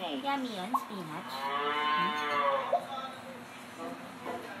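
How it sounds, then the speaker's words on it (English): A cow gives a long, drawn-out moo, preceded by a shorter lowing call, close and clear with nothing else competing. "That's the sound a cow makes."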